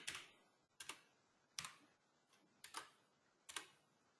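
Typing on a computer keyboard, five separate bursts of quick key clicks at an even pace, close and fairly quiet in a still room.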